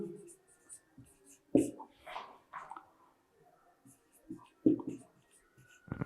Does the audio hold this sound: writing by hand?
yes